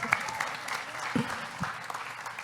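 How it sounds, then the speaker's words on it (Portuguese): A church service congregation claps in applause, a soft, somewhat distant patter of hands under a murmur of voices and short bursts of sound. "Uma salva de palmas pro Caio"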